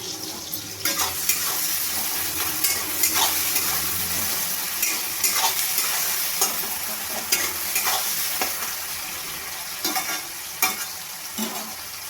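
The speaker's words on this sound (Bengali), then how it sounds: "এবার আমি এটাকে ভালোভাবে ভেজে নেব।" A tempering of tomato, green chili and garlic with salt sizzles steadily in a wok, with a constant close crackle broken by repeated stirring scrapes and clinks.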